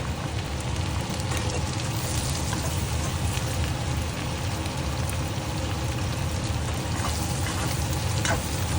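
Shrimp sizzle steadily in hot melted butter with garlic in a pot, a dense, even crackle that carries on without a break.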